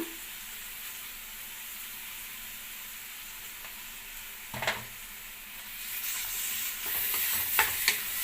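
Mashed potato filling with salt sautéing in a pan for veg puff stuffing, a low continuous sizzle with a few bursts of stirring and scraping toward the end.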